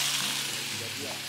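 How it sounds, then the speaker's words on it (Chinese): Base vegetables for a spicy dry-pot chicken dish drop into hot oil in a wok, raising a dense, steady, close sizzle with faint voices underneath. "好，这油已经热，再先炒锅底菜了"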